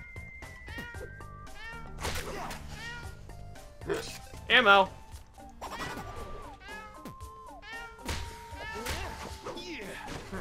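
Synthetic kitten meows from a kitten gun in the video game Adventure Time: Explore the Dungeon Because I Don't Know, repeating in quick bursts amid game sound effects and a louder whoosh, while players talk over them.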